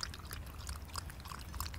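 Water poured into a dog's bowl at an outdoor dog run makes a faint, continuous trickling splash over soft background noise.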